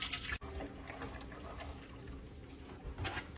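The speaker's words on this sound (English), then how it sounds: "We're gonna pour the whole gallon into the pot." A whole gallon of fresh milk poured into a pot on a stovetop for homemade yogurt, a steady close splashing pour that runs without a break and carries no speech.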